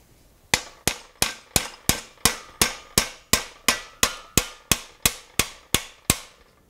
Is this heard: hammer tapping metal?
yes